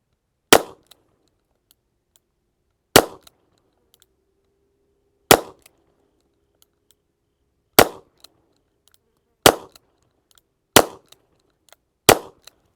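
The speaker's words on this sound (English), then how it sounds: "We're gonna start out with a 38 special wad cutter, and we're shooting from 10 yards away" A Lipsey's S&W 686+ Mountain Gun revolver fires .38 Special wadcutters at an indoor range from 10 yards: seven sharp, loud single shots spaced a few seconds apart, each with a short echoing decay and quiet pauses between.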